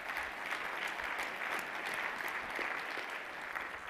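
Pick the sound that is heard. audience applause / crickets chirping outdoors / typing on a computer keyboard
audience applause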